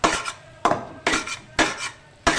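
Semolina halwa roasting in a pan is stirred with a spoon in four or five rhythmic scraping sweeps against the metal, each a short rasping burst followed by a brief pause.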